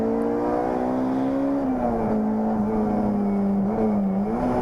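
A race car at Lydden Hill circuit holds a loud, steady engine drone that dips and rises slightly in pitch as it limps along with an electrical fault, continuous and close.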